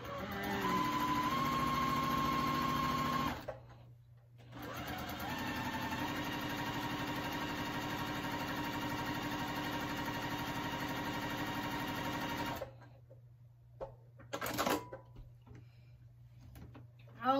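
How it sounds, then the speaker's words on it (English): A sewing machine stitching fabric for a Tilda-style cloth doll runs in two long, steady humming stretches with a brief pause between them, then stops, leaving quieter handling noises near the end. "So I'm gonna sew this on this line from the reference point of the dots."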